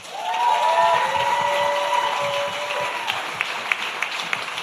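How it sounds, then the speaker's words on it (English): Audience applause for an award winner at a cystic fibrosis awards ceremony, a loud sustained wash of clapping that slowly thins out toward the end, with a few sharper individual claps. "One more round of applause for Randy"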